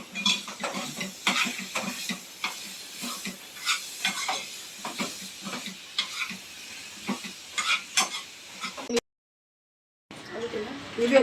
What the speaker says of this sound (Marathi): थोडस हलवून घेऊया आधी